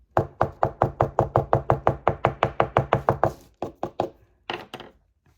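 A steady series of about sixteen sharp, evenly spaced taps from a hammer, then a brief pause followed by a few more irregular knocks, close and fairly loud.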